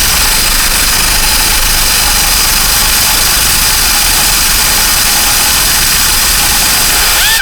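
Engine of a Buick Encore running in reverse to spin a lifted wheel during a rear brake job, as a loud, constant droning rumble and hum close to the car.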